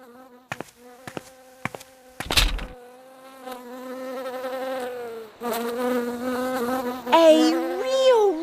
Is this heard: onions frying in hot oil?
no